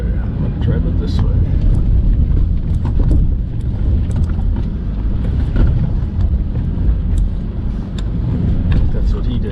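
A vehicle climbs an off-road slope, its engine a loud, rough, continuous roar mixed with wind buffeting and clatter, as a voice talks over it.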